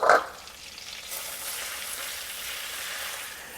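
Flour stirred into melted butter in a frying pan hisses and sizzles steadily after a brief opening clatter, a close, continuous frying sound with no voices.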